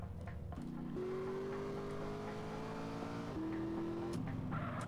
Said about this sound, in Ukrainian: перший запуск двигуна Феррарі